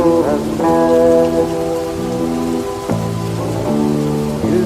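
Continuous rain falls close by while a Turkish autumn song plays muffled from another room, its melody and singing voice carried over the even rain hiss.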